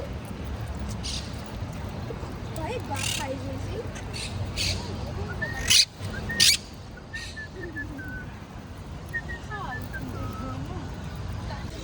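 A parrot being fed squawks and whistles in short bursts, fairly close and loud at moments, over a steady outdoor hum with people talking nearby.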